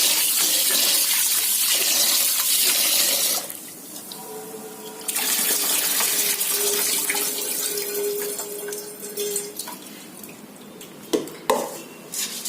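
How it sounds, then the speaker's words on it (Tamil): Running water splashes steadily while grains for adai dosa batter are swished and rubbed by hand, with a brief lull midway and a few clinks near the end. "கழுவும் போது இப்படி நல்லா பிசைஞ்சு கழுவுங்க"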